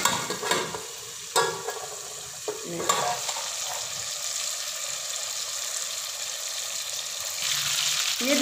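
Chicken for chicken karahi frying in a pan, giving a steady, close sizzle throughout with a few sharp stirring knocks early on and the frying growing a little louder toward the end.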